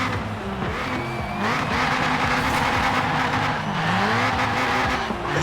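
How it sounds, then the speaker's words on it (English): Front-wheel-drive Ford Puma with a 500-horsepower engine doing a burnout in Forza Horizon 4, engine roaring loud and steady with rising and falling revs over a continuous tire squeal, no voices. "that's front wheel drive burnouts for you"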